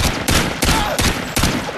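Gunfire in a search-and-destroy round of an online shooter game: four or five loud, broadband volleys of rapid shots in quick succession, each burst sharp and close, with no talking over it.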